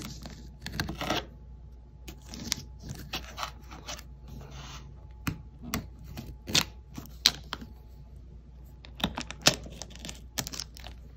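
A blade cuts an X into the plastic-wrapped substrate of a mushroom grow kit, giving sharp, irregular clicks, scrapes and taps at close range with no talk over them.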